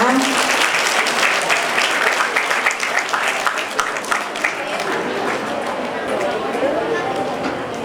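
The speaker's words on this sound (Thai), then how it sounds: "นักเรียนปรบมือด้วยนะคะ" Students clap at a Thai private school's National Mother's Day ceremony after scholarships are presented by the district chief, loud dense applause with chatter mixed in, gradually thinning toward the end.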